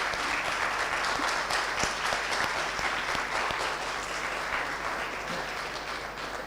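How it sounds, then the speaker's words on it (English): Sustained audience applause at a university student venture demo day after a student team's pitch, a moderately loud, even wash of clapping that continues from start to finish. "A round of applause for them."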